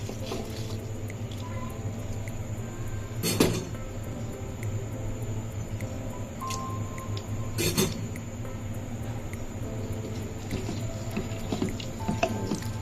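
Mustard with ginger-garlic paste being stirred into hot oil in a pan for a mustard mango pickle gives a steady, fairly quiet sizzle, with two sharper clatters of the utensil against the pan.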